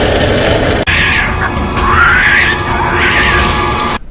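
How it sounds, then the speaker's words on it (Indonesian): A monkey-like creature's loud, wavering screams rise and fall over a dense, rumbling film soundtrack in a jungle scene, continuous and close with no talk. "Nggak lama, Kong teriak kenceng banget"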